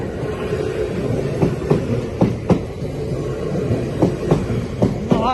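Mainline excursion train hauled by Eddystone passing the Poole level crossing in Dorset, a loud steady rumble with repeated clickety-clack wheel beats over the rails as it rolls by close.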